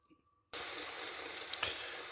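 A sudden loud sizzle starts as an egg and spinach mixture hits a hot frying pan, then a steady, close frying hiss continues.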